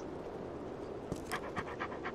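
A dog pants steadily and rhythmically in the video game Postal 2, close and clear with a few soft whimper-like breaths near the end.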